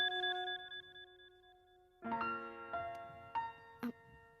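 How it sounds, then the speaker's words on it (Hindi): A telephone rings indoors with a repeating electronic ringtone, a steady tone pattern for two seconds, then louder bursts of ringing notes with short gaps, fairly close and with no voices. "नहीं तो ये फोन बजता ही रहेगा।"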